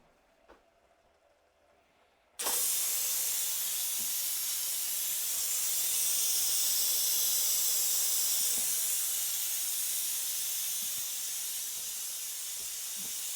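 A pressure cooker suddenly starts venting steam after a brief quiet start, a loud, close, continuous hiss that holds steady for many seconds with no talk over it.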